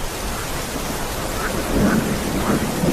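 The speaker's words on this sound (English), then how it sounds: "Somewhere green and cool and full of the sound of rain." Steady, dense rain hisses across the whole stretch while low thunder rumbles underneath, swelling slightly louder toward the end, with no talking.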